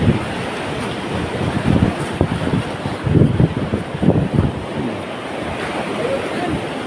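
Surf rolls in at a windy seashore where someone is fishing, with low rumbling waves swelling and fading and steady wind buffeting the microphone, while a person speaks faintly underneath.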